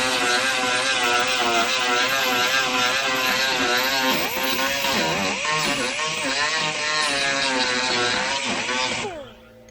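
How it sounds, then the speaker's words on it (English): Small die grinder fitted with a thick disc grinds cracked fiberglass on a 1994 GMC Stepside pickup, a loud, close, high whine that rises and falls in pitch as the disc bites and eases, then winds down and stops at the end. "I'm just going to use this little die grinder with a thicker disc on it instead of a cutting wheel"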